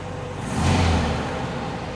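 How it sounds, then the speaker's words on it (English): A 1975 fuel-injected VW Beetle engine revs up and settles back down in one short, close burst of rising and falling engine noise. "Revs up, revs down."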